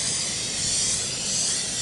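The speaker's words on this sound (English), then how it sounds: "Hit it with the old rattle can." A spray paint can hissing in one continuous burst, loud and close, a steady airy spray with no voices.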